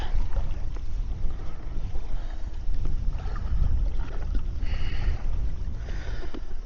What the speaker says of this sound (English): Hopefully this wind drops right out very soon